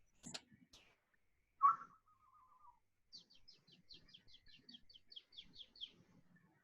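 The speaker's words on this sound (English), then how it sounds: "I'm trying to talk to the bird" A bird calls outdoors, one loud whistled note followed by a fast run of high chirps, clear and fairly close against quiet surroundings, with no talking.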